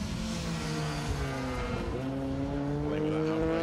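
Small Peugeot rally car sliding sideways on a circuit rally stage, engine howling loud and steady with shifting pitch as it drifts through a corner.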